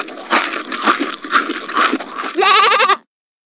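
A goat bleats once with a shaky, wavering cry near the end, following a stretch of busy cartoon-style sound from a Peppa Pig children's alphabet song, then silence.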